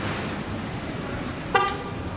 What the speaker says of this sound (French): Juste il est là, il klaxonne.